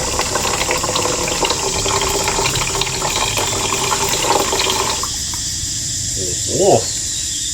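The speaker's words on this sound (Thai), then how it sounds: "เราก็เขย่าทิ้งเลย เนี่ยครับโหออกมาเป็นฟองเลยครับ น้ำออกมีสีปนแดง" Reddish water and foam shaken out of a Honda NSR150RR motorcycle radiator, a loud close gushing and splashing that fills most of the span, then cuts off and leaves a quieter tail with a brief gurgle.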